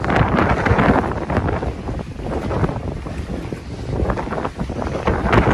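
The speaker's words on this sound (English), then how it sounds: "Hopefully you can hear me over this wind." Strong wind buffets the microphone in a steady, rough roar on a seaside pier at Harwich and Dovercourt, with rough sea water sloshing and churning underneath throughout.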